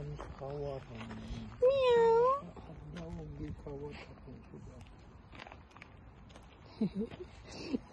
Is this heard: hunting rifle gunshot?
no